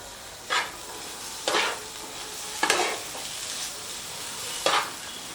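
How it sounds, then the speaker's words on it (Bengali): Scrambled egg mixture being stirred in a pan, with a soft background sizzle and four separate scraping strokes of a spatula spaced about a second apart, close and moderately quiet. "আমি সব কিছুর সাথে মিশিয়ে একটু ঝুড়ো মতো করে নেব"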